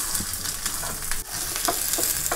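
Sliced onion dropped into hot oil with mustard seeds, sizzling loudly and steadily while being stirred, with brief scraping bursts, close up and without talk.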